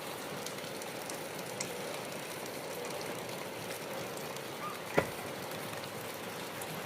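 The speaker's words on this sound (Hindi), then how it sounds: "कितनी बारिश हो रही है" Heavy morning rain falls outside in fog, a steady, dense hiss that stays even throughout, broken only by a single sharp knock near the end.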